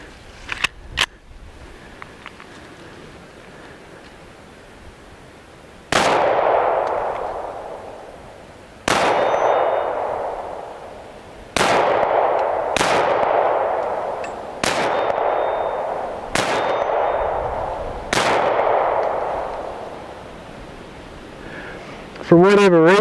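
Beretta Nano 9mm pistol fired at a range: seven loud, sharp shots spaced a few seconds apart, each with a ringing reverberant tail, preceded by a couple of faint clicks.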